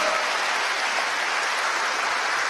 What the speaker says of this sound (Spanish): Démosle palmas al Señor, hermano.